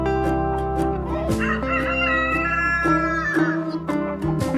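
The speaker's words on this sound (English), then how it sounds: "Rooster." A rooster crows on a farm, its long rising-and-falling call stretching across most of the clip over a steady backing of music, with a few short clucks at the end and no voices.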